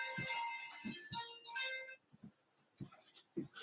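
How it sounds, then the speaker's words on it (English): A phone rings in a room in two clear rising electronic tone bursts near the start, followed by a few soft clicks and light knocks. "oh, and there goes the phone."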